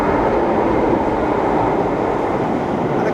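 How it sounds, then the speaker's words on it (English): Old London Underground train, among the oldest on the network, at a Baker Street station platform, giving a loud, steady rumble with a broad roar throughout and no talk. "The oldest trains on the network."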